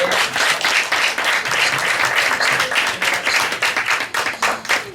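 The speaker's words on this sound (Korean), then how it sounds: "뜨겁게 박수해 주세요." A church congregation claps enthusiastically at a discipleship class graduation service; loud, close, continuous applause with many hands and a lively, uneven rhythm.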